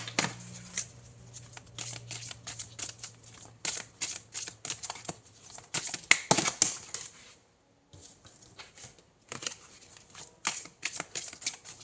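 Tarot cards are shuffled in quick rapid riffles and slides, close and crisp, in bursts with a brief pause near the middle, then more shuffling resumes.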